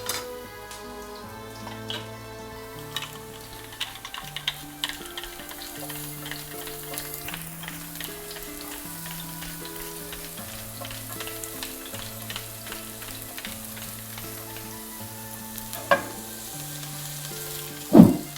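Garlic frying in a pan as the base for Italian broccoli rabe, a steady soft sizzle running throughout under background music, with a couple of sharper clinks near the end.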